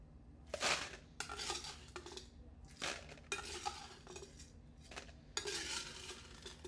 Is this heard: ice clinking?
yes